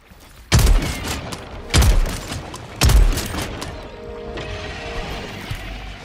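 A shotgun in Helldivers 2 fires three heavy booming blasts at an armored Hive Guard, spaced roughly a second apart, each followed by a crashing decay, then a low rumbling game ambience.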